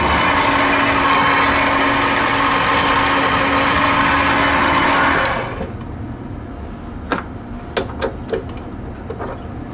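A mini lathe countersinks a spacer block, its motor giving a loud steady whir for about five seconds before shutting off, followed by a few sharp clicks and taps in the quieter room.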